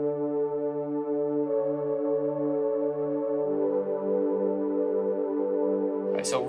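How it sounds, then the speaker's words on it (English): A gritty, grainy worship-style synthesizer pad preset sustains a dense chord, swelling brighter and thicker midway and ending with a short noisy sweep, played alone at moderate level. "So here's a pad."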